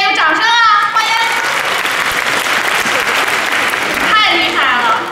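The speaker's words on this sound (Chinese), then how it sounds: "此处是不是应该有掌声啊？" An audience bursts into loud, dense applause at a school concert, sustained clapping filling most of the moment, with voices speaking at the start and end.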